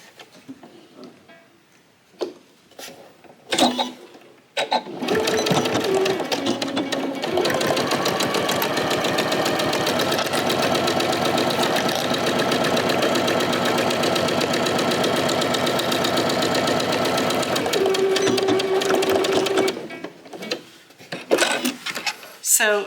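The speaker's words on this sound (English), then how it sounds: "we're going to top stitch along the top edge." A sewing machine runs one long, steady, close burst of top stitching along the top edge of a pouch pocket, with brief handling clicks and bumps before and after.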